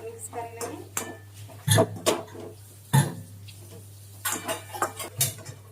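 Coriander powder and chaat masala are mixed in a metal pot, with a spoon clanking and scraping against the sides in scattered bursts and a few coughs or throat sounds between them.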